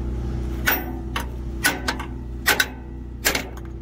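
A hammerstone struck against another hammerstone to knap a stone point, giving four sharp, loud clacking impacts at irregular intervals over a steady low hum.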